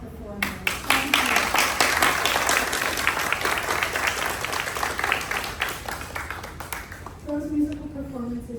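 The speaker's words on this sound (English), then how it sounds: "Another round of applause for our amazing musical performers." Sustained applause from an audience after musical performances, steady and full for several seconds before fading as a voice begins to speak.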